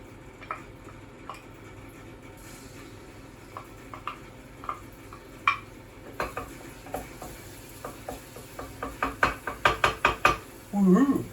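Garlic sizzling in oil in a pan for homemade pizza, a soft hiss at first, then a quickening run of sharp pops and crackles growing louder toward the end.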